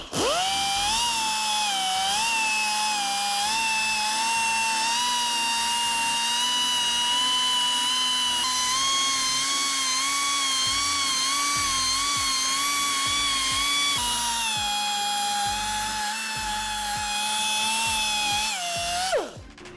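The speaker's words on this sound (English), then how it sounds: "So we'll do a little bit of belt sanding now" A belt sander runs continuously with a high, steady whine and grinding hiss as it smooths the bottom of a bicycle part, pitch dipping slightly as it works, then cutting off at the end.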